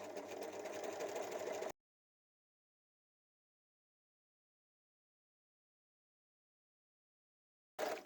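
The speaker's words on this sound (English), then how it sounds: "I'm going to stitch around 3 sides on this first piece" Sewing machine stitching around three sides of a cushion pillow slip piece, a steady loud whirring run lasting under two seconds, then a long silence before a brief final burst.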